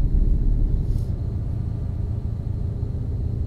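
Truck engine noise from the Euro Truck Simulator 2 driving game, a steady loud low rumble and drone that continues without a break, with no voices over it.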